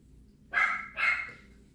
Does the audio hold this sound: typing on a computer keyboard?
no